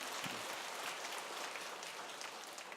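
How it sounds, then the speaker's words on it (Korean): A church congregation at a Sunday service applauds to celebrate a newly received catechumen member, a dense, even patter of many hands clapping at a distance that continues throughout. "큰 박수로 축하해 주시기 바랍니다."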